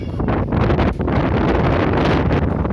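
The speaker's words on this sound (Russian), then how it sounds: "Смотри, какой ветер" Strong autumn wind in Yeysk roars and buffets the microphone, a loud, constant rushing gust with brief dips in force.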